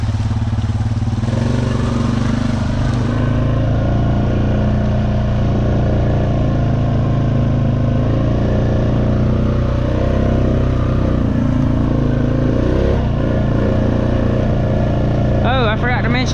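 A vehicle engine drones steadily while driving slowly along a rain-wet dirt road, a continuous low rumble close and loud throughout, with a brief whining sound near the end.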